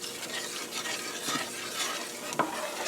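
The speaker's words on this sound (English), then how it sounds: "And give that a stir." Cheddar cheese sauce being stirred in a pot for Cajun mac and cheese, a steady close scraping swirl with faint sizzle and occasional utensil clinks against the pot.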